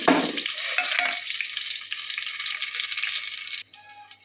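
Ginger and garlic hit hot oil in a pan for chicken curry, a sharp burst of sizzling with stirring scrapes that settles into a steady frying crackle, then quiets near the end.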